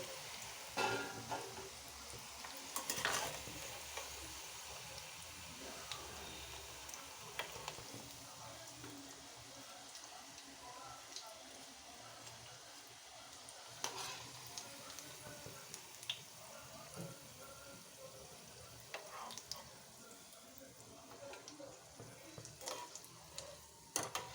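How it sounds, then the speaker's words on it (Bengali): Steady oil sizzle of frying potatoes throughout, with occasional sharp ticks and pops rising from the continuous crackle. "এরপর আমি বাদ বাকিগুলো ভেজে নেব"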